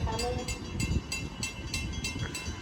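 At night a train passes Bethpage station with loud, continuous rumbling and regular clicking beats from the wheels over the rail joints, and a faint horn sounds briefly near the start.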